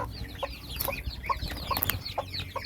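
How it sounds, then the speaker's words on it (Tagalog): Small farm chicks, several of them, peep in short high chirps scattered steadily over a low background hum, with a few louder close calls mixed among fainter ones. "Yan ang sisiw ng SBR."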